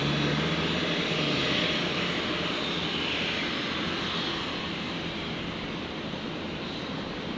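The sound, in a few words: Qantas 51 airliner engines, flight to Singapore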